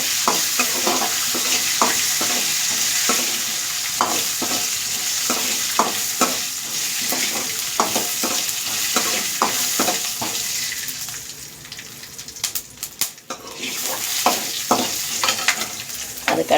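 Black pepper, cumin and fennel sautéing in oil for an eggplant gravy, a constant sizzle with frequent rhythmic spoon scrapes against the pan, briefly quieter midway before the stirring resumes, close and without speech.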